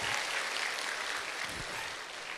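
A university audience applauds in a hall, a faint, even wash of clapping that holds steady throughout and seems somewhat distant.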